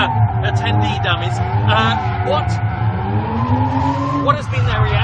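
A Kia Stinger drifts at a SEMA 2017 drift event, its tires squealing in long wavering tones over a steady engine drone, loud and close, with voices talking over it throughout.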